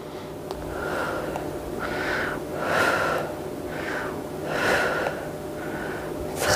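Steady, audible breaths in and out during a muscle-strengthening workout, a rhythmic series of about half a dozen airy exhales and inhales heard up close with no talking.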